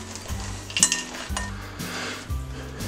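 Peanuts are worked into panettone dough in a bowl, giving rhythmic, repeated scraping and thudding strokes with occasional light clinks of utensil on bowl, close and moderately loud, with no voices.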